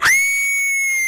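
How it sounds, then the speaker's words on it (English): A little girl's blood-curdling scream at a Halloween home haunt, one sustained, piercing shriek that bursts in loud and holds steady, bright and shrill, with no talk over it. "This one is a little girl, had an incredible scream."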